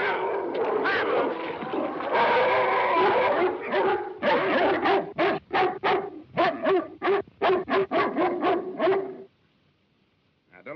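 A sled dog barks repeatedly in an outdoor winter setting, first in a continuous flurry and then in sharp, rapid barks, close and loud, before falling silent near the end.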